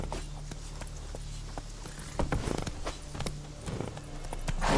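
Roach, a horse in The Witcher 3, runs with a steady stream of hoof clip-clops over a low droning background, the hoofbeats growing busier and louder toward the end.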